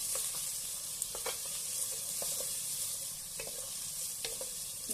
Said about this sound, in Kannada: ನಿಧಾನವಾಗಿ ಸಣ್ಣ ಉರಿಯಲ್ಲಿನೇ ನಾವು ಇದನ್ನು ಫ್ರೈ ಮಾಡ್ಕೊಳ್ಳೋಣ